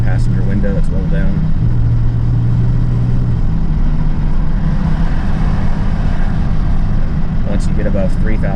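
A 1994 Mercedes S350 diesel with a new turbo pulls on the road, its engine droning steadily as boost builds, heard from inside the car with a voice briefly breaking in.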